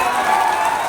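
Crowd at an outdoor political rally clapping, a dense, even wash of applause held for a moment, loud and close.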